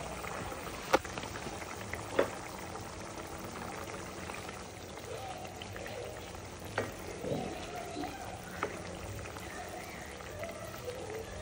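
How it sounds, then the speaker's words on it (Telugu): Keema curry with ridge gourd is stirred in a pan after the lid comes off, a faint low sizzle with soft scraping and a few sharp spoon taps against the rim. "ఇప్పుడు ఒకసారి ఓపెన్ చేసి మనం మిక్స్ చేసుకుందాం"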